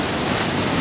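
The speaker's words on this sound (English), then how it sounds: "There's a massive wave coming now." A large ocean wave breaking on the shore during seascape photography, heard as a steady, loud wash of broadband surf roar that fills the short moment without any voices.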